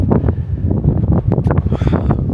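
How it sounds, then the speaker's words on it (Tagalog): Strong wind gusting across a high mountain lookout at the top of the stairs in Sapa, a loud, steady roar with buffeting bursts that blows hard into the microphone for the whole stretch. "Hangin mo jud kayo."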